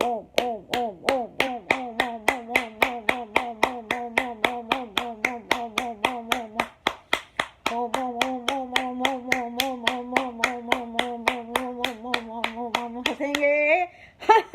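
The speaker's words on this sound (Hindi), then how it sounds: "ओम के साथ ताली बजाएंगे" Hands clap in a steady fast rhythm, loud and close, while a voice chants Om continuously over each clap during a yoga session, ending with a rising shout.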